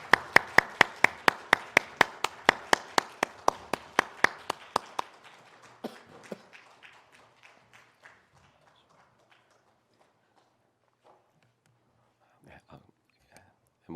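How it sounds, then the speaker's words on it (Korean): A church congregation claps together during a Sunday worship service, loud rhythmic unison claps that break into scattered, fading applause and then a few stray claps. "하나님께 영광의 박수 올려드리겠습니다."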